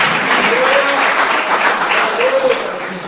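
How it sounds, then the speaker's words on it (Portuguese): A church congregation applauding, a dense, steady wash of clapping from many hands throughout, with voices mixed in. "Dá uma salva de palmas para ele"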